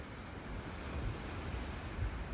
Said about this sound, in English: the sunshine, the sea breeze, sounds of the